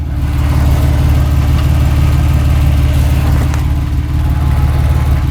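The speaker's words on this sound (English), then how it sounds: "This is honestly beyond a lifter noise because this one actually has cylinder or piston slap." Engine idling steadily with a deep, continuous low rumble and faint rhythmic knocking from piston slap in the cylinders, a bore-scoring fault; loud and close, no talk.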